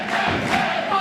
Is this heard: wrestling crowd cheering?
yes